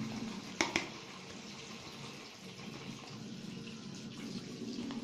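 Water from a tap runs in a steady, soft stream into a shaving bowl being prepared for lather, with a couple of sharp clinks near the start and no talking.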